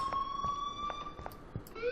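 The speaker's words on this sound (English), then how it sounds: "I just trigger the alarm to have fun, I guess." An alarm sounds in the video game Life is Strange, with steady high electronic tones and repeated pulses, close and fairly loud.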